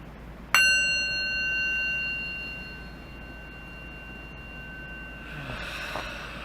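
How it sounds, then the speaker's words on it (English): A small bell struck once to open a devotional chanting session, a clear bright ring that sustains and slowly fades over several seconds in a quiet room, with faint rustling near the end. "let's start with a little bell."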